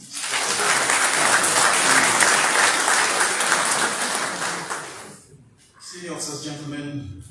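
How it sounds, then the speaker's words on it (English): Sustained applause from an audience of senior army officers at a change-of-command ceremony for the outgoing Chief of Army Staff, loud and steady for about five seconds before fading, followed by someone speaking. "Another round of applause"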